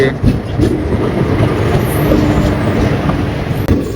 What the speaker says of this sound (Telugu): దూరంలో ఒక ట్రైన్ వస్తుంది, అది వస్తే చూపిస్తా ఆగండి. ఇప్పుడు వచ్చింది ఇంజన్